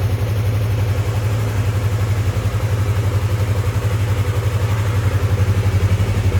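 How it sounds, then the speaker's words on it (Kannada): A motorcycle engine idles close by in Bengaluru, a loud, steady, rhythmic putter that holds evenly throughout. "ಫೈನಲಿ ನಾನು ಬಂದುಬಿಟ್ಟು ಬೈಕ್ ಸ್ಟಾರ್ಟ್ ಮಾಡಿದ್ದೀನಿ"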